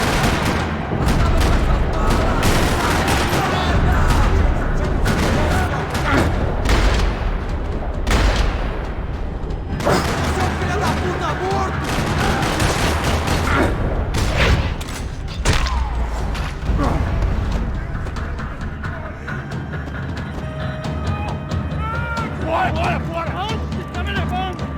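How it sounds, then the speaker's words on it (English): Rattling gunfire echoes around a parking lot in the Max Payne 3 video game, bursts and shots crackling over mechanical clanks and creaks in a loud, dense mix, with talk running through it. "Another parking lot rattling with gunfire."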